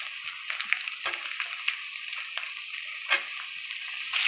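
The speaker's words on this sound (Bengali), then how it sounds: "পেঁপেটাকে দিয়ে নাড়িয়ে নিচ্ছে।" Papaya pieces fried and stirred in a pan with oil, after potatoes were browned, make a continuous soft sizzle with scattered scraping clicks and a sharper clatter partway through.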